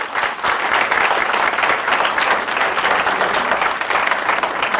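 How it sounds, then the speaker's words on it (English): An audience at a political forum gives a sustained round of applause, dense steady clapping from a roomful of people that continues evenly throughout. "If you would all like to join me in a round of applause for these gentlemen"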